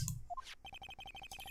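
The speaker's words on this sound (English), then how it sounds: "The phone that just rang wasn't mine." Cell phone ringtone in Phoenix Wright: Ace Attorney, a tune like the Steel Samurai theme, playing as a rapid run of repeated short electronic beeps, bright and steady, following a few brief game blips.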